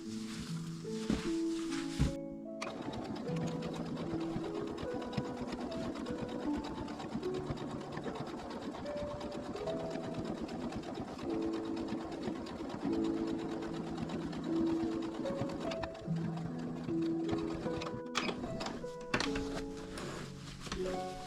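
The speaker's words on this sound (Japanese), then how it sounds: "こちらもここからここまで縫っていきます。" A sewing machine stitching the seams of a tulip-style bag, running as a steady, close mechanical whirr for about twenty seconds, with a brief stop near the start and another near the end.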